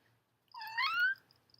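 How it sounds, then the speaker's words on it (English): A house cat gives a single clear meow that rises and falls, about half a second long, close by in an otherwise quiet room. "Sorry, that's the cat."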